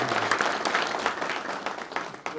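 Audience at a city State of the City presentation breaks into applause, a steady crowd clapping that thins out near the end.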